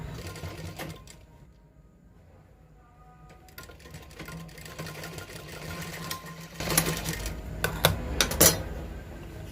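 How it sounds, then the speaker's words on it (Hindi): A sewing machine stitches a coat collar in short bursts, quiet at first and then louder rapid mechanical chatter near the end, close by with light clinks and no speech. "तो इस तरीके से आप बैठा कर इसमें सिलाई दें।"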